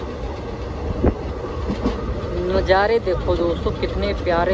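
A passenger train on the Varanasi to Lucknow line rolls along the rails just after leaving a small station, with steady rumble and rhythmic clacking heard from inside the coach under someone speaking.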